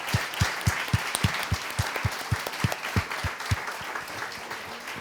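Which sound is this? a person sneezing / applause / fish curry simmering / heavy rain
applause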